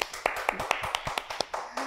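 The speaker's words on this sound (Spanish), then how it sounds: "Aplauso" Applause from a show audience, heard as a string of distinct, fairly evenly spaced claps about every quarter second rather than a dense ovation.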